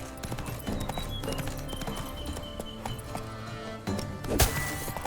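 Hooves of Roach, the horse in The Witcher 3, clip-clop in a steady trotting rhythm close by, mixed with game music and a sharp thump near the end.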